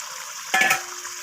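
Pre-fried raw green tomatoes tossed into a sizzling pan with Bombay duck (loitta fish) curry; a steady frying hiss is broken midway by a short, loud burst of scraping and stirring.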